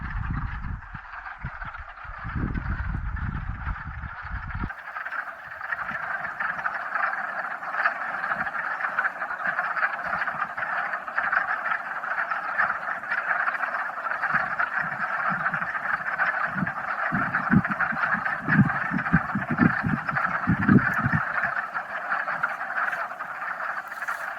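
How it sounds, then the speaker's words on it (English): Frogs croak in a dense, continuous chorus at a pond in Pinchot State Forest, a steady layered calling that fills the scene with rhythmic bursts of deeper croaks rising and falling close by. "The frogs are making their sounds, making their calls."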